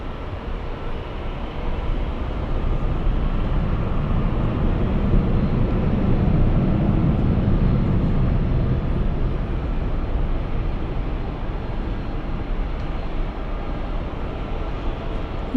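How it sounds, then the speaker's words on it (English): A Delta Airlines Boeing 737 airliner lining up at LAX for a flight to Las Vegas, heard as a steady, loud, broadband jet engine roar with a low rumble that swells slightly midway and holds for about fifteen seconds, with no talk. "Lining up is a Los Angeles to Las Vegas flight, Delta Airlines 737."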